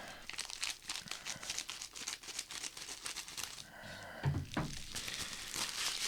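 A plastic shipping mailer is cut open and pulled apart, giving a steady run of crinkling and rustling with a tearing scrape and a soft thunk near the end.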